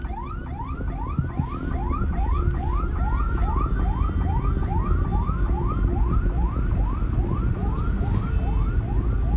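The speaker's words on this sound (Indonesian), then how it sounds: "Dan sejumlah ambulans juga mulai menuju lokasi" A wailing ambulance siren cycles rapidly and steadily over heavy toll-road traffic rumble at a bus crash scene, loud and continuous throughout.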